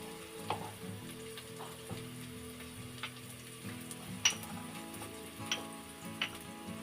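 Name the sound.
tempering kadhi, frying spices in oil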